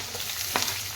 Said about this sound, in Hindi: और अब ये मैं आलू और प्याज डाल रही हूँ